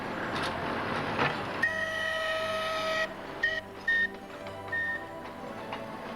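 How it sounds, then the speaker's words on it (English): A Manx Electric Railway train on the Isle of Man rolls by with a steady rumble and wheel noise, broken by high electric whines and squeals that sound and stop in short bursts. "The Manx Electric Railway operates between Douglas and Ramsey"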